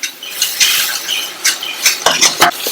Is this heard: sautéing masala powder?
yes